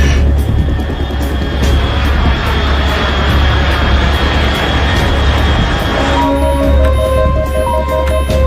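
A fast unidentified aircraft at high altitude in Metal Gear Solid 3, a loud continuous roaring engine drone filling the scene, joined near the end by electronic beeping tones.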